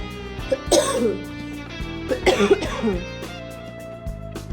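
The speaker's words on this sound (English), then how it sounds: "she had this cough that's so bad that it keeps waking her up" A young girl with a cold coughs in two harsh bursts, close and fairly loud, over a steady background hum and faint music.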